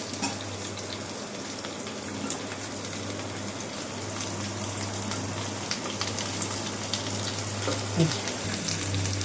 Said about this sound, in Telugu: బెండకాయలు బాగా వేగనివ్వాలండి